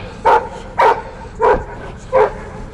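A dog barks four times in an even rhythm, each bark short and fairly loud against a quiet background.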